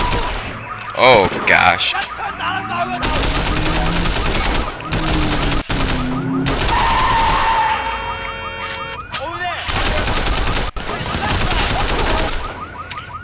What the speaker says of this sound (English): that was a bloody gunfight